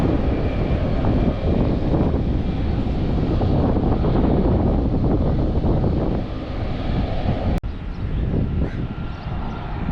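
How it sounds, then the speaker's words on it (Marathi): A jet airplane powers up for takeoff at Mumbai's Chhatrapati Shivaji Maharaj International Airport, a loud, steady broadband roar with wind buffeting the microphone throughout and a sharp click near the end. "पायलट सज्ज होतो आहे विमान उडवण्यासाठी उड्डाण करण्यासाठी"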